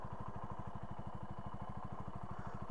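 A Benelli TNT 125 motorcycle idles nearby, its single-cylinder engine putting out a steady, rapid, even putter with a faint mechanical clatter on top, holding constant throughout.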